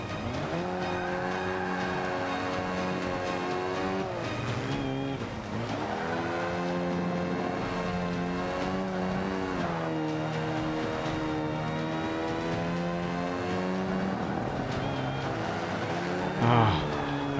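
A race car in Forza Motorsport 5 is floored through a corner, its engine droning loudly and steadily with rising and falling revs throughout, a brief tire scrub near the end, with someone talking over it.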